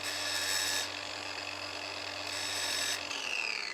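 An angle grinder grinds metal in a blacksmith's smithy, a steady loud high whine with a slight pitch shift partway through that winds down at the end.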